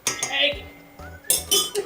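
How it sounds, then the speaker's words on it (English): A utensil stirs a yeast mixture in a bowl, producing close clinks and scrapes against the bowl in a few quick bursts, with a brief faint voice underneath. "So we're going to give this a bit of a stir."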